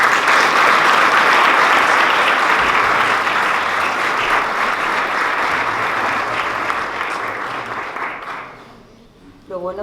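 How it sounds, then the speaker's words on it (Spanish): A large audience at an evangelical alliance gathering in Jerez gives the arriving mayor a long round of applause. The dense, steady clapping holds for several seconds, then thins and fades out at the end. "vamos a recibir a nuestra señora alcaldesa con un aplauso"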